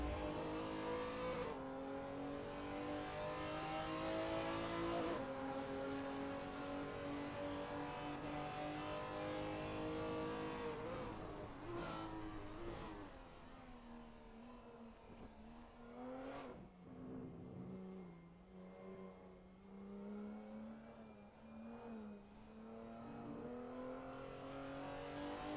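A BMW touring car in ATCC sim racing at Oschersleben, its engine droning loud and steady and rising and falling with revs through gear changes, with no talk over it.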